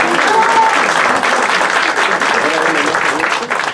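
An audience at the Pergamino de Oro al Mérito Andrés Henestrosa ceremony gives loud, close, continuous applause for federal deputy Sergio Mayer, many hands clapping at once with a faint murmur of voices underneath.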